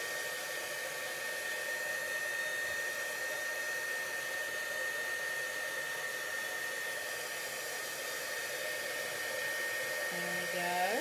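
A hair dryer runs steadily up close, drying ink in a continuous whirring blow with a constant tone for several seconds, and the pitch shifts briefly near the end as the airflow changes.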